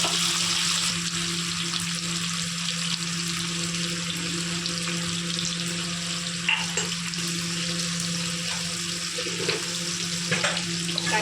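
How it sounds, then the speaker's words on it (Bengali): Gathi taro potatoes frying in hot oil: a steady, dense sizzle close to the pan throughout, with occasional faint stirring clicks and no talk. "গাটি আলুটা হালকা একটু লাল লাল করে ভেজে নেবো।"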